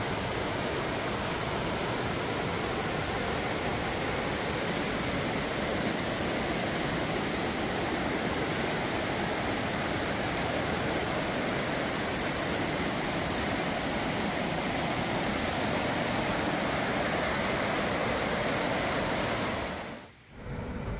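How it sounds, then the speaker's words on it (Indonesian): Rushing river water of the Telaga Waje in Sidemen, Karangasem, Bali: a steady, loud, broadband roar of fast-flowing water close by, continuous throughout and cutting out abruptly near the end. "Mengalir deras air sungai Telaga Waje"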